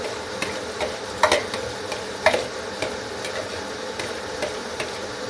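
Potatoes being stirred in a frying pan for a dosa filling, a soft ongoing sizzle broken by sharp scraping taps of the spoon against the pan at irregular intervals, close by.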